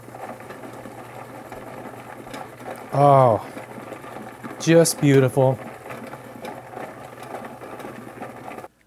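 A rock tumbler motor runs steadily with a heavy barrel loaded on it, a constant mechanical whir and hum throughout, with someone briefly speaking over it twice.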